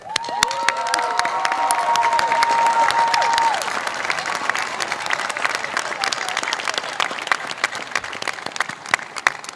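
Audience applause at a college commencement ceremony, loud sustained clapping from a large crowd with scattered cheers and whistles, a few drawn-out whoops early on, continuing steadily throughout.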